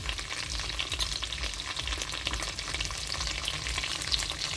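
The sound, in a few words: frying dried fish (buwad) in a pan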